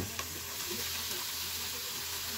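Aromatics sautéing in a pan for chicken bone soup, a steady close hiss and sizzle with faint stirring scrapes, even and fairly quiet throughout, no voices.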